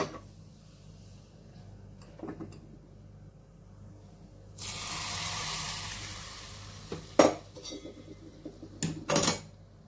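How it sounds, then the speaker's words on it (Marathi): A hot chili tempering of spiced oil is poured over a grated carrot salad, giving a loud sizzling hiss for a couple of seconds, followed by spoon clinks and scraping as the salad is stirred. "लगेचच आपल्याला ही फोडणी गाजराच्या कोशिंबीरीवर घालायची आहे"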